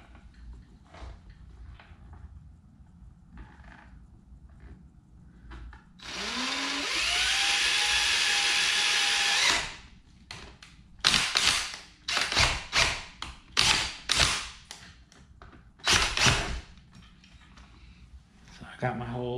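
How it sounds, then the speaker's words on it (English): A power drill bores a hole through the body panel of a Honda Ruckus scooter to mount a start button, whining loudly and steadily for about three seconds, followed by a series of short, sharp bursts. Someone talks quietly in between. "I'm going to go drill through."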